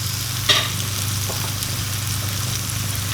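Shallots going into butter in a pan with mushrooms, a quick burst of sizzle at the start settling into a steady, moderate frying hiss.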